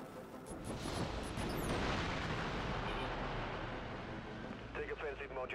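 Ship weapon modules fire at targets in the video game Dreadnought, a dense rolling rumble of booming blasts that swells and then eases over several seconds, with a few brief bright tones near the end.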